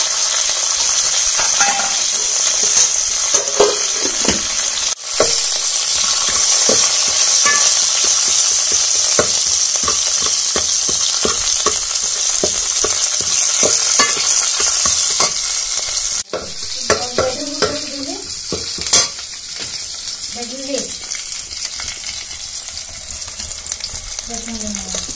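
Cumin and mustard seeds fry in hot oil for a village-style kokum kadhi, giving a steady, loud crackling sizzle with scraping stirs throughout and a few brief clinks and soft sounds near the end.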